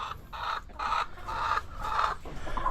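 Small chickens cluck repeatedly in short bursts near their coop, with a steady low background hum.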